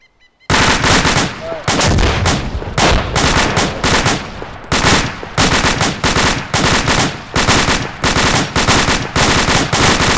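A fire team opens up in the military shooter ArmA 2, with loud, close rifle and machine-gun fire in rapid bursts separated by brief pauses, sustained over about ten seconds.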